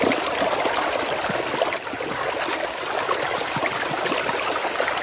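Water runs through a gold sluice box, and black sand builds up in the riffles. The sound is a continuous, close rushing and trickling flow with bubbly splashes, steady throughout, and no voices.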